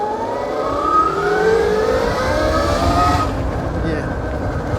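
A BRZ Racoon Pro 84V 21kW electric bike motor under way on a bumpy road, a rising and falling electric whine that climbs in pitch with speed over steady wind and road rumble, loud and close.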